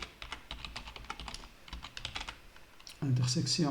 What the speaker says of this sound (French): Je vais trouver ce que je cherche en tapant directement les commandes